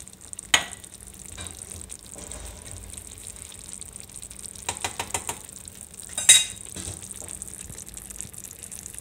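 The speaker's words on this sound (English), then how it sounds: "So now I'm gonna dump everything right into the skillet with the meat." Tomato sauce and ground beef cook in a skillet for spaghetti sauce, giving a quiet, steady sizzle with a few louder clanks and scrapes of stirring or pouring.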